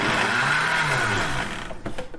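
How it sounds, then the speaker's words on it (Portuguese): A blender motor whirs loudly and steadily through bananas, then cuts out and winds down near the end, leaving brief clattering handling noises. "a gente para o liquidificador, empurra as bananas para o centro para ajudar ele a voltar para ficar perto da hélice e bater novamente"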